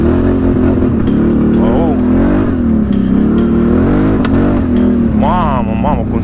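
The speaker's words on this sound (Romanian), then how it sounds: "Să vedeți voi cum se mișcă ATV-ul după modificări și după evacuarea asta schimbată." A modified ATV with a changed exhaust revs and runs steadily close by on a mountain trail, its engine droning loudly throughout with pitch rises, while a voice briefly exclaims.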